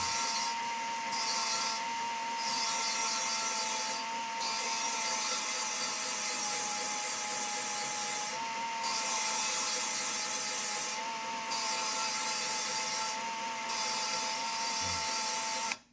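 A 5.2/5.9 engine valve being lapped against its seat with valve grinding compound, a continuous gritty rubbing and grinding drone that holds steady throughout with periodic high scratchy bursts, then cuts off abruptly at the end.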